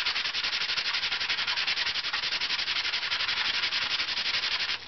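A steady, rapid scratchy rubbing of Dutch rush horsetail stem against the wooden top plate bass bar of an instrument, back-and-forth strokes in an even rhythm, close and continuous.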